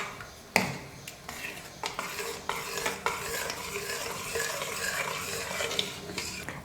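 A jaggery and cardamom mixture is stirred in a pan, with steady scraping and clinking of a utensil over a soft continuous sizzle, close and without talk.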